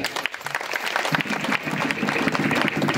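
An audience claps during a Marathi kirtan, a dense burst of applause that builds and holds steady for a few seconds.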